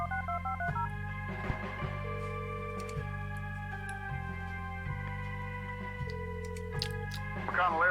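Phone keypad tones from dialing a number in the adventure game Kathy Rain, a run of short electronic beeps, clear and even, followed by steady ringback tones, with background music underneath.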